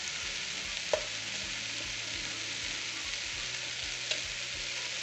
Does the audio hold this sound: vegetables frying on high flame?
yes